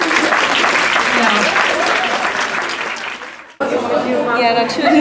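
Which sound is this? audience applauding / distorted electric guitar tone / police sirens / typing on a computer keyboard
audience applauding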